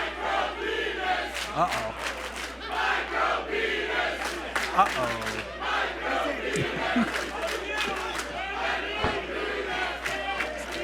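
A passionate crowd at a Chaotic Wrestling holiday show chants and yells together, a loud, dense roar of many voices that keeps rising and falling throughout, with a few brief individual calls on top.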